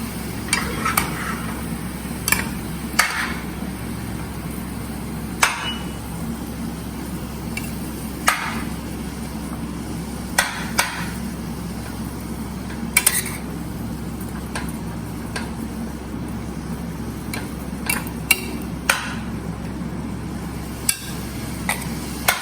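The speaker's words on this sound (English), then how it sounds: "Then you stir." Bottle gourd simmering in milk with a little sugar is stirred in a pot, with a low continuous bubbling hiss punctuated by sharp, irregular clinks of the spoon against the metal.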